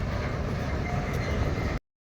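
A train running onto a newly built railway line near Sambalpur makes a loud, continuous rumbling roar close by, with no talk, before the sound cuts off abruptly.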